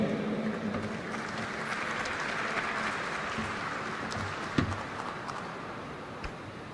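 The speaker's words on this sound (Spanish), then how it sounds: "Recibamos con un fuerte aplauso a la maestra Cecilia Valdés" Conference audience applauding to welcome a speaker at a national potato congress, a sustained, moderate wash of clapping that slowly fades toward the end, with a few distinct claps standing out.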